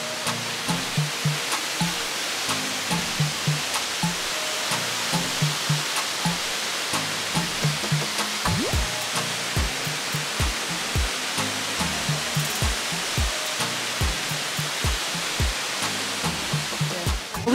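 The waterfall at St. Nectan's Glen in Cornwall gives a constant, full rushing hiss of falling water, loud and near throughout, with light repeated taps and thumps over the roar.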